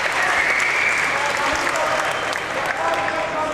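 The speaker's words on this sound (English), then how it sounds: "the crowd shows their appreciation" A crowd at a combat jiu-jitsu event applauds in loud, dense, sustained clapping that holds steady from start to finish.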